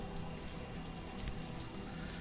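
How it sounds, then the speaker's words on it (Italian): Rain falls in the city-building game Banished, a faint, steady patter and hiss throughout the short stretch. "piove come al solito"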